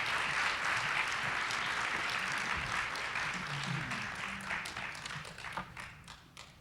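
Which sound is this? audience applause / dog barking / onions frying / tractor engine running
audience applause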